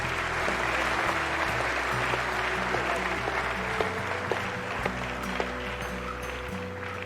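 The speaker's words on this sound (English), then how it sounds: "Another round of applause for him" Audience applause fills a large hall at a memorial event where the Emir of Kano is honoured, a steady, dense wash of clapping over low rumbling background and faint voices throughout.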